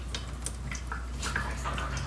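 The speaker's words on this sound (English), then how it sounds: "And you can hear it. See, it's dripping." Reverse-osmosis/deionization wastewater dripping from a tube into a sink drain, a faint steady trickle of small drips against a constant low hum, no talking.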